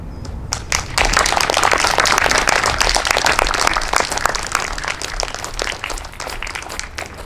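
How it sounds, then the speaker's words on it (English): A school audience at a middle school verse-speaking performance bursts into loud, dense applause after a brief pause. Many hands clap rapidly and steadily, filling the hall until near the end. "Can we give them another round of applause, please?"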